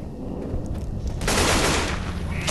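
Gunfire crackles in Left 4 Dead 2, a dense rattling flurry of shots that swells loud halfway through and keeps going amid a rumbling, busy game soundscape.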